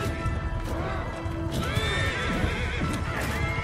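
Horses neigh and whinny repeatedly amid hoofbeats in a chaotic battle in the video game Mount & Blade II: Bannerlord, loud and layered over a dense rumble of combat noise.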